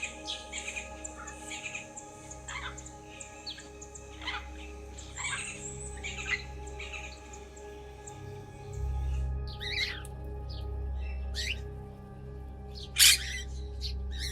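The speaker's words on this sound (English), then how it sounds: "the sparrows rushing to their nests in the trees" Sparrows chirp in scattered short calls from trees on open grassland, the calls fairly faint and fairly distant, with a steady low rumble underneath and a sharper call near the end.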